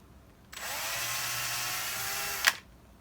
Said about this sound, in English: It needs a little bit of a drill here so the screw eye can go in.